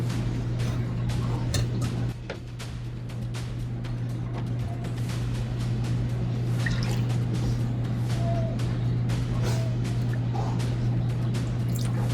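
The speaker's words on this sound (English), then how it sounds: "now we're going to strain it out" Rendered beef tallow is strained through a fine mesh strainer and cheesecloth, with soft liquid drips and trickles over a constant low background hum.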